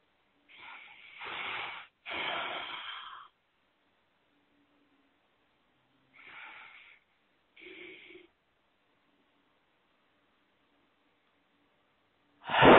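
Deep exhalations through the mouth come as four separate breaths, the first two long and close together, the later two shorter after a quiet gap, each a soft breathy rush with near-silence between.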